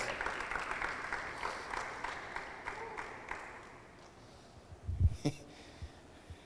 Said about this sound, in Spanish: Todavía le puedes dar un aplauso al Rey.